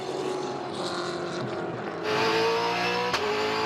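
A Supercar spins its wheels while rejoining the track at Winton Raceway in a 2012 race, a loud, harsh engine roar that surges and grows louder partway through, with no talk over it.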